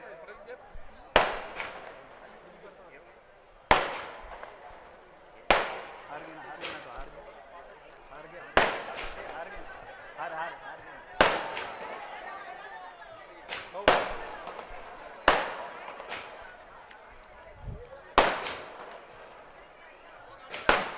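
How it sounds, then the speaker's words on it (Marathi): Firecrackers burst repeatedly at a public political gathering, loud sharp bangs every couple of seconds with crackling in between, while people talk in the background. "फटाके बंद करा जरा कृपया फटाके जे चालू आहे ते बंद करा"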